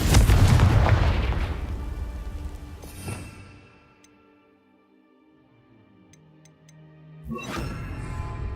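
In a Harry Potter video game, a Confringo explosive spell erupts in one loud, deep blast that rumbles and fades into a quiet, ringing tail before the game sounds swell again.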